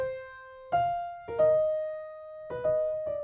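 Piano phrase from a Chopin Nocturne played with dynamics and articulation, a few struck notes with long ringing sustains separated by short gaps, soft and close, with no talking.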